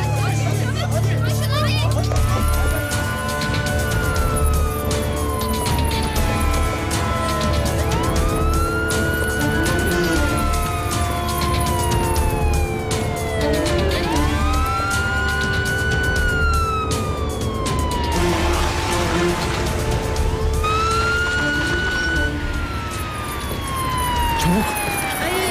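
A police car siren wails in repeated rising and falling sweeps, loud and close over constant street noise and a babble of voices, with people talking throughout.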